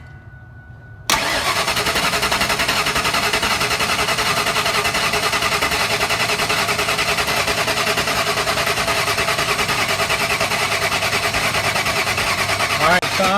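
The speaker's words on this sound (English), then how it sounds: "he's going to crank the truck until I tell him to stop" Ford Lightning pickup engine cranking with the throttle held wide open during a compression test, a loud sustained rhythmic churn that starts abruptly and runs unbroken for over twelve seconds.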